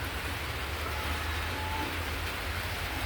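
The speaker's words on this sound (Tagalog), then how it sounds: "Ngayon o, oh, umuulan na naman." Rain falls steadily outdoors, a constant soft hiss of drops with no break and no voices.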